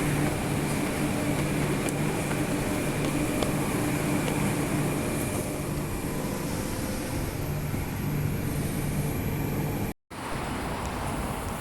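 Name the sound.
passenger train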